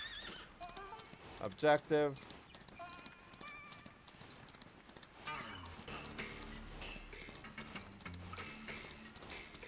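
Horse hooves clip-clop and a horse whinnies in the Western video game Far Far West, the neigh rising loudly for a moment before steady hoofbeats continue under game music and a brief spoken word.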